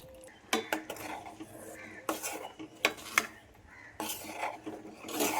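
A spoon clinks and scrapes against a pot as payesh is stirred, with sharp metallic taps at irregular intervals over a soft rubbing scrape, close and moderately loud with no talking.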